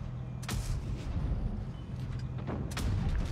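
Tank gun fire in the mobile game World of Tanks Blitz, a Centurion 5/1 in battle, with booming shots near the start and near the end over a continuous low rumble of game noise.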